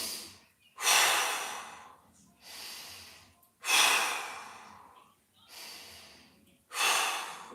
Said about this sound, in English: We have 3 breaths.